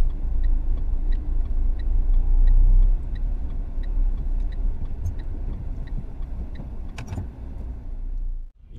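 Car rolling in reverse gear near a pedestrian crossing, a steady low engine and tyre rumble held close throughout with faint light ticking, easing off at the end.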